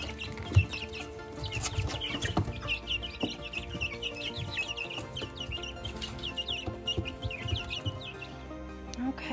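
Chickens clucking and chirping throughout, a busy flock sounding close by with steady overlapping calls.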